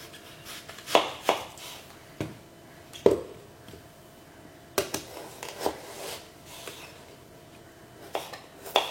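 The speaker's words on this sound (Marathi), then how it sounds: "आतां आमी न्हू कांदे कातरुया" A knife chops onions on a board in a sparse, uneven run of sharp, close taps with short pauses between them and no talking.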